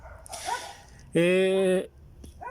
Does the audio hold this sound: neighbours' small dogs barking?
yes